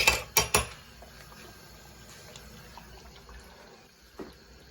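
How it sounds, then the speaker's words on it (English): A metal spoon clinks sharply three times against a pot of thickening Cumberland-style pie filling, followed by quieter stirring and a faint later tap, close by. "Grab a spoon."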